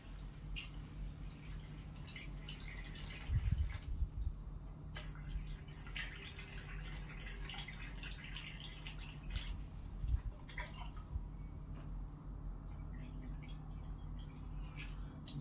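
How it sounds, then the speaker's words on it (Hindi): Water is poured into two containers of soil, producing faint dripping and trickling with scattered small splashes against a low background hum. "सेम पानी डाल रहे हैं दोनों मिट्टियों के अंदर।"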